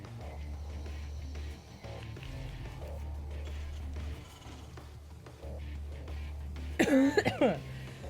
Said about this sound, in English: I just have a bit of a cough.